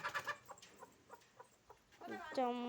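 A hen clucks close by in a series of short, uneven clucks, ending in a louder drawn-out squawk, as she is set on eggs in a village yard; faint voices sound in the background.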